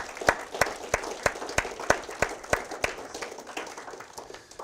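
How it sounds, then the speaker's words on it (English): At a National Technical Honor Society induction ceremony, the audience claps with a distinct, regular rhythm of sharp, even claps over a soft wash of scattered applause, ending as the beat fades. "Let's give everybody a round of applause."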